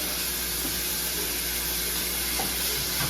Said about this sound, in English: So we're going to saute our red peppers and our onions.